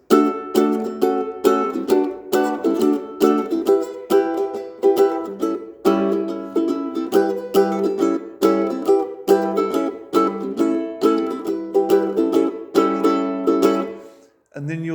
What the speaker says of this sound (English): Your first verse should sound something like this.